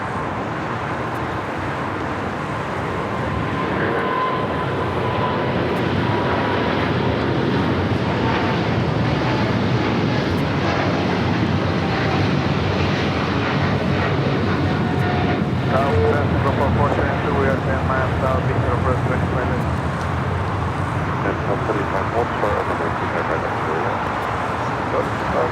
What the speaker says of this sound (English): All right, we got KLM flight 604 heading back to Amsterdam.